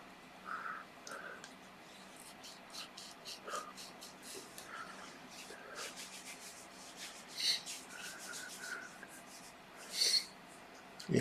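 Hands rub briskly together in quick repeated swishing strokes, fairly close and quiet, with a few louder bursts.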